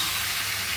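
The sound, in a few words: mutton poured into hot pan with onion, sizzling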